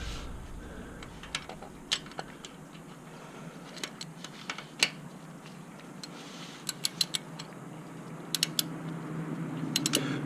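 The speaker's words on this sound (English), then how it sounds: "now I'm going to just put my ratchet on it, give it a couple turns" A ratchet turning a bolt on a Harley-Davidson touring motorcycle during an oil change, giving scattered sharp clicks in short bursts over a quiet garage background, close but faint, with no talking.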